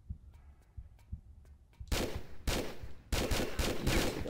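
Gunfire in the video game Tomb Raider 3 Remastered starts as sparse faint clicks and thumps, then breaks into loud sustained bursts of rapid shots with brief gaps, close and harsh, with no talking.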